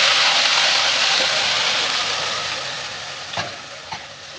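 Ground masala dropped into hot oil with cumin for a bottle gourd kadhi, a loud close sizzle that slowly fades, broken by a couple of sharp spoon knocks.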